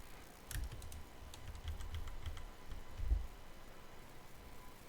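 Computer keyboard keys tapped in quick, light clusters while someone works in SketchUp, faint and close, with a few slightly stronger thumps among soft clicks and no talking.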